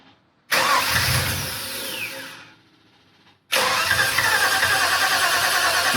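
A Holden VN 5.0 V8 cranks and fires, runs roughly for about two seconds, dies away to near silence, then restarts and settles into a loud, steady running note.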